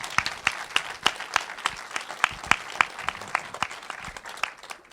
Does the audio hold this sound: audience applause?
yes